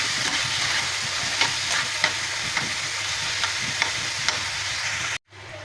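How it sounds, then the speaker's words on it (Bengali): Chicken pieces frying in oil in a pan, a loud continuous sizzle close up with soft stirring knocks every half second or so, cutting off abruptly near the end. "এই তেলে মাংসগুলো দিয়ে আমি একটু ভেজে নিচ্ছি"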